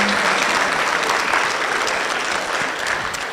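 An audience at the CBF Business Forum Business Breakfast & Expo claps steadily and energetically, a dense, close roar of many hands that holds at an even level throughout.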